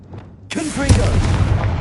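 A Confringo blasting spell bursts in Hogwarts Legacy with a sudden loud boom, followed by a sustained rumbling, crackling blast that stays close and heavy to the end, with a voice briefly audible around it.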